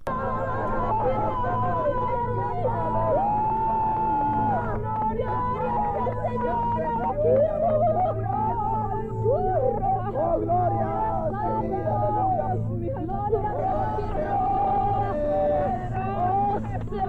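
Ceremony in a played-back video where many voices scream and wail together, with overlapping, wavering cries held for long stretches over a low, steady hum.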